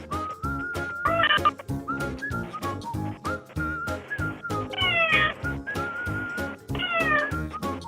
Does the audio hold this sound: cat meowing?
yes